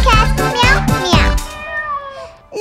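A cat's meow is mimicked by a child-like sung voice in a nursery rhyme, repeated drawn-out meows over bouncy music, loud and close.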